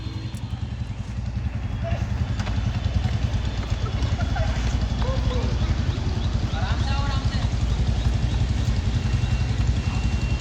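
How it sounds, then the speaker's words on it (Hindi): Motorcycle started and left idling, a low, steady, rhythmic engine putter running throughout beneath chattering voices. "बाइक स्टार्ट कर दी पापा ने, जल्दी चलो"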